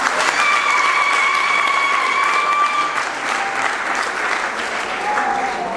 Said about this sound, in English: Can we give them a clap of hands, please?